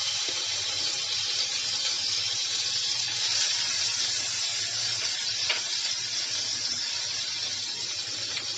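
Butter melting in a pan for white sauce pasta gives a steady, soft hiss and gentle sizzle that runs evenly throughout, with a faint tick or two and no talking.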